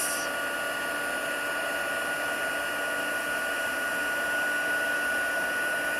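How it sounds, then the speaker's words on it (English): Craft heat tool blowing steadily as it melts embossing powder on a card sentiment, a continuous close whooshing fan-and-heater hiss with a faint whine, unbroken for the whole stretch with no talk. "once the powder starts to melt, just move your heat tool along your sentiment"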